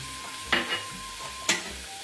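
Boiled vegetables stir-fried in hot coconut oil in an uruli for a Kerala sadya kootu curry: a steady low sizzle broken by two sharp scraping stirs, with no talk.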